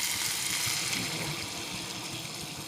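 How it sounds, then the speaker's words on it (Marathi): Water poured into a pot of mixed dal while cooking, a steady close splashing rush that stays fairly even for a few seconds and eases slightly toward the end, with no talking. "आता पाणी टाकून घेते."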